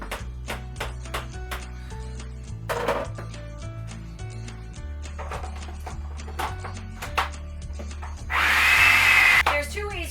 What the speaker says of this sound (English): you can either leave it in your food processor on low for about 10 minutes